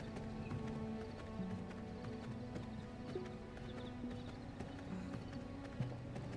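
Horses in V Rising clip-clop in a steady trotting rhythm at low volume, with faint whinnies mixed among the hoofbeats.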